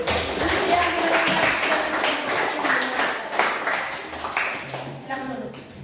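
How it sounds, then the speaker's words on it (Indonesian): Students in a classroom clapping their hands for a group, a brisk burst of many claps mixed with voices, tapering off near the end as talk continues. "Kelompok ini tepuk tangan untuk"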